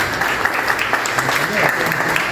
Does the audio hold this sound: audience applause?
yes